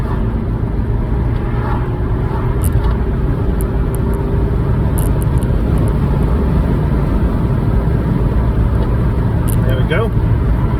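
A 2004 Rover Streetwise hatchback accelerating hard from a standstill toward 60 mph, steady loud engine and road drone heard from inside the cabin, with a person talking over it.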